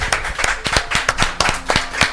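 A church congregation claps in praise after a sermon, loud and close, with sharp individual hand claps falling in a fairly regular rhythm over a bed of scattered applause.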